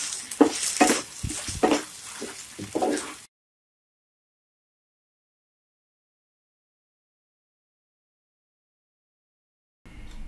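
Beef chili onion being stirred in a frying pan, a dense sizzling scrape with quick utensil strokes for about three seconds before the sound cuts to silence, then a brief return at the very end.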